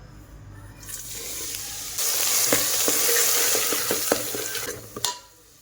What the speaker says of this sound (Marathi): आता इथं बघा मी मसाले पण तळून घेतलं आणि सगळं सामान पण तळून घेतलं